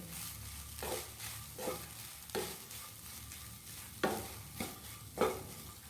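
Spring onion being stirred into paneer fried rice in a pan, a spatula scraping in several distinct strokes over a soft, steady sizzle, close and fairly quiet with no talking.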